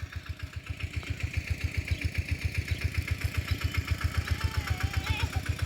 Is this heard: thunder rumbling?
no